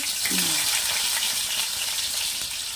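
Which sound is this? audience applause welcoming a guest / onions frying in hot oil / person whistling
onions frying in hot oil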